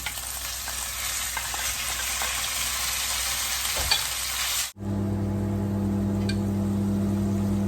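Steady, loud sizzling of chicken stir-frying over high heat in a hot pan for Thai green curry, cutting off abruptly partway, followed by a low hum and faint clinks.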